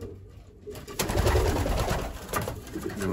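Breeder pigeons in a loft give soft, low cooing calls, starting faintly and growing fuller after a brief quiet moment, with no talking over them.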